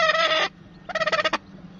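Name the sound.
hen clucking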